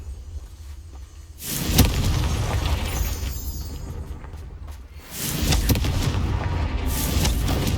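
Confringo explosive spell in the video game Hogwarts Legacy: two loud booming blasts, each followed by a sustained roaring rumble, with no talk.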